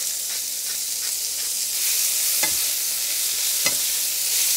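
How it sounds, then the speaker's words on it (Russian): Eggplant and onion fry in vegetable oil with black pepper and salt for Azerbaijani chikhirtma, giving a steady close sizzle and hiss with a few sharp spatter pops and soft stirring scrapes. "я наливаю растительное масло и выкладываю баклажаны"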